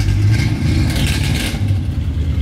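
Engine of a 1970s-era classic car running with a small exhaust leak, a close, loud, rough mid-pitched rumble with slight pulsing throughout.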